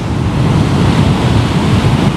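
Ocean surf rolling onto a beach, a loud, steady wash of breaking waves with wind buffeting the microphone throughout, no voices.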